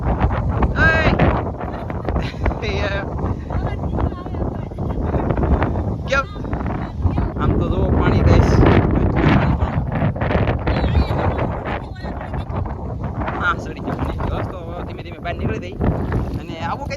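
Strong wind on the seashore during crab fishing buffets the microphone in loud, continuous gusts, with people talking over the roar throughout.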